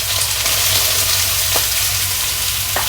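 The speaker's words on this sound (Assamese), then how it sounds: "পিয়াজখিনি তেলৰ লগত এবাৰ লৰাই লৈছো" Chopped onions fry in hot oil for fried rice, with a steady close sizzle and a few soft scrapes as they are stirred, no voices.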